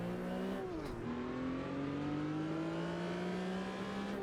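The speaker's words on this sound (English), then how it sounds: "Nice little whine from the gearbox there." Engine and gearbox whine from a 1974 Porsche RSR 3.0 in the Automobilista 2 racing game, a steady loud tonal drone that dips briefly near the start and then climbs slowly as the revs rise, with no voices over it.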